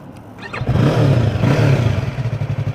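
A Yamaha R3 motorcycle engine sputters unevenly close by, then dies into a rough, pulsing chug as it stalls with the clutch held in.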